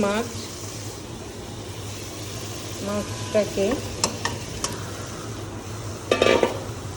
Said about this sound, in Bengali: মাছটাকে একটু হালকা একটু কষিয়ে নিব, যেহেতু ভাজা দিই নেই